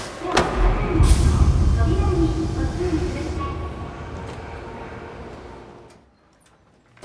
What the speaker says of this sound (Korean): 집으로 돌아가기 위해 지하철을 탑니다